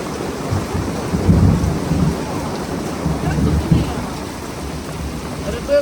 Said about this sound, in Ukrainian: може Град падає, просто град